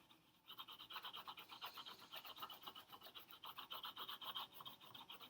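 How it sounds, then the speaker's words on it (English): A quiet, steady rasping scratch repeats in quick strokes, like a crayon scribbling back and forth on paper, with no voices. "So I can hear the crayon on the paper."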